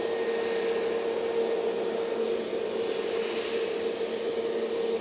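A British Airways Airbus A321neo jet spooling up at Manchester Airport, a steady broad roar with a sustained whining tone, distant and even throughout, with no talking.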